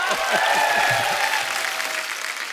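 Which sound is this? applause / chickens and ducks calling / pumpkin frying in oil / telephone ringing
applause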